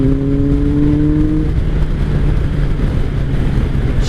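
A 2003 Kawasaki ZR7S motorcycle engine hums loud and close while being ridden, with the revs held up and slightly falling in pitch before settling into a steady drone over wind rush.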